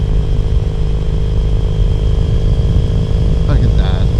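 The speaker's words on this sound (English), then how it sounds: "looking for that ever elusive 6th gear in this bike" Triumph Thruxton 900 motorcycle engine running steadily and loud throughout as the rider cruises and shifts gears, a continuous close drone with brief rising whine near the end.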